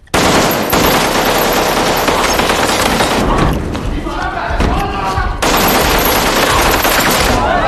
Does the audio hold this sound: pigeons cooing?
no